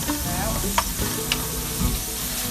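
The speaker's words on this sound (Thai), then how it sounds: "เอาเครื่อง สามเกลือของเรานะฮะ ลงไปผัดให้หอมก่อน" Three-salt seasoning paste stir-fried in a pan over medium heat, a loud continuous sizzle broken by scraping stirs and a few clicks of a spatula against the pan.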